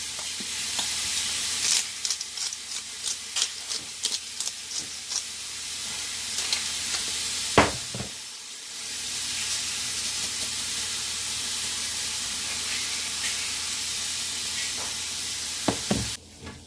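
Meat for Greek moussaka sizzles steadily in a hot pan, a continuous frying hiss broken by scattered sharp clicks and knocks of a spoon stirring and breaking it up, with no voices.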